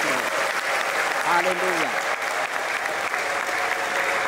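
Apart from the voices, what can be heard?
wedding guests applauding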